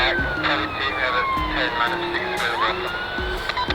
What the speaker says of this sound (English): it's sirens going on in the background